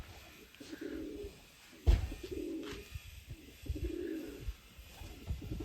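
Pigeons in a pigeon loft coo in low, throaty rolling phrases that repeat at intervals, with a sharp knock partway through and light rustling around them.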